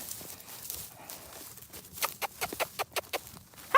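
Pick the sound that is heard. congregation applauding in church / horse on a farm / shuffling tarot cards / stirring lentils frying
horse on a farm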